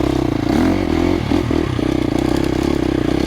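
A KTM 350XCF dirt bike engine pulls slowly uphill in first gear, a steady close low-pitched chug with a rough, even throb and brief rises in revs, heard alone without talk.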